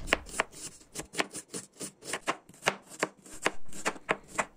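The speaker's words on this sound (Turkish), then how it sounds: "Üç tane soğan doğruyoruz." An onion is chopped on a board, three onions in all: a brisk, uneven run of sharp knife taps, close and distinct, with brief pauses between bursts and no talking.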